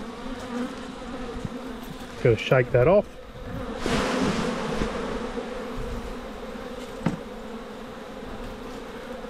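Honey bees swarm around an opened, long-neglected hive with old timber-lugged frames, a steady close buzz running throughout beneath a voice, with brief bursts of handling noise.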